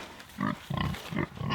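Pigs raised for meat on a rustic farm grunt four times in quick succession, close and fairly loud, each grunt short and rough with brief pauses between.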